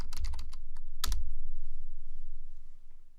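Quick bursts of keystrokes on a computer keyboard as a password is entered, a handful of crisp close clicks clustered at the start and one sharp press near the middle, then quiet.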